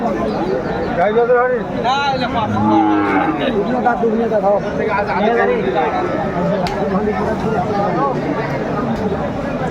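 Cows low repeatedly at a busy village cattle market in Aftabganj, Bangladesh, where milk cows with calves are traded; the moos rise over steady crowd chatter and bargaining voices throughout.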